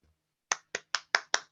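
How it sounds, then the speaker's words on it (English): One person clapping hands six times at a steady pace, close and crisp in a quiet room after a talk on political activists and professional women. "That's just me clapping."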